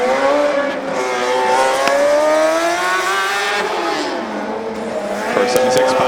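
A loud Formula Student race car engine roars past at high revs during a run, the pitch sliding down as it passes, with continuous engine noise throughout.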